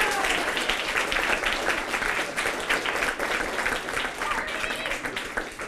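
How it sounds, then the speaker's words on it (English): Crowd at a high school senior art show applauding a student teacher, a loud, continuous burst of clapping with voices and cheers mixed in, lasting throughout. "You better give her a bigger round of applause."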